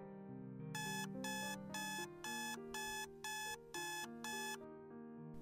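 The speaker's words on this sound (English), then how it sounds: "both of their alarms went off" Alarm clocks go off in a bedroom. About eight evenly spaced bursts of bright electronic beeping ring out over a low, sustained musical tone, fairly quiet and without talk.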